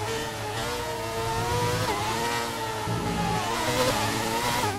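Formula 1 car engine in F1 2019 taking a chicane, a loud, steady high-pitched whine whose pitch dips and climbs with downshifts and acceleration, heard alone without talk.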